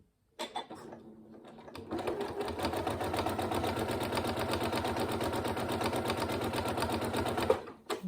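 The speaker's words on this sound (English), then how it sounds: "And I'm going to sew again." Sewing machine stitching a zipped pencil case, one continuous run of rapid rhythmic stitching for about six seconds after a brief start, close and steady, ending with a click.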